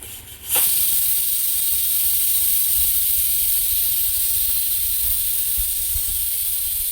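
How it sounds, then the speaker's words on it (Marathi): A pressure cooker whistle lets go with a sudden loud blast after a quieter moment, then a long sustained piercing steam hiss that holds strong and close for several seconds. "प्रकारे आपली दुसरी पण शिट्टी झालेली आहे"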